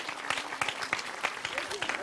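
Studio audience applause during a French cooking show on andouille de Vire, heard as scattered, moderately faint hand claps mixed with voices in the background.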